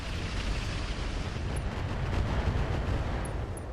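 Mech weapons firing in the RogueTech battle game, a dense continuous roar of cannon and missile fire heard close and loud, with no speech.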